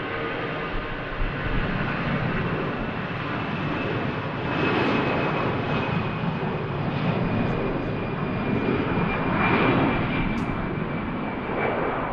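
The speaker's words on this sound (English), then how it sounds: "Heading off to Frankfurt, Lufthansa Airbus A319 with Lufthansa flight 941" A Lufthansa Airbus A319 jet departs Manchester Airport, its engines giving a loud, steady broadband roar that holds for the whole stretch and swells slightly at the middle and end.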